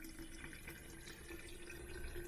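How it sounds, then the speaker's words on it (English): Rice water pours into a jar of mustard greens being pickled in a salted vinegar brine, a steady close trickle and splash of liquid running without pause. "then we're going to pour in our rice water until it covers the greens"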